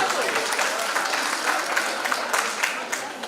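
An audience at a nursing conference applauds School of Nursing students after their performance, a continuous wash of many hands clapping at moderate level, steady throughout with no pause.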